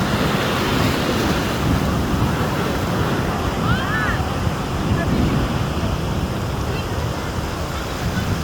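Ocean waves breaking on a beach shore, a constant loud wash of surf with wind buffeting the microphone, a faint bird call briefly rising in the middle.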